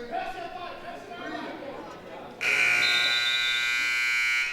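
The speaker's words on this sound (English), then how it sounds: "And buzzer will sound." A loud, sustained buzzer ends a wrestling match period at a high school triangular meet. It cuts in abruptly after crowd murmur and holds steady to the end of the clip.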